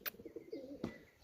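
Pigeons coo softly nearby in a few low, rolling calls, along with faint chirps and a short flutter or click, and no voices.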